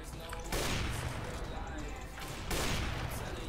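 Gunfire in a one-on-one video game duel, a dense continuous rattle of shots at moderate loudness with two sharper bursts, and a voice talking under the shooting.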